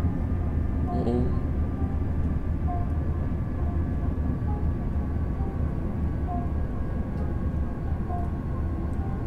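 A train rumbles steadily along a line in Train Sim World 3, a continuous low drone with faint tonal hums and a few brief high squeals. Someone talks over it.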